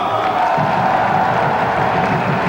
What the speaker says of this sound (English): Sous les applaudissements des supporters PSG